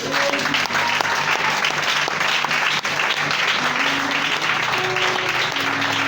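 A church congregation applauding during a prophetic service, loud sustained clapping from many people filling the room without a break.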